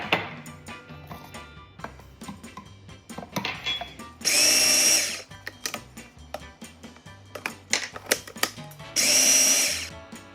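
A food processor pulsing homemade pie crust dough, two loud whirring bursts of a few seconds each separated by clattering and handling noises, close up with no talk.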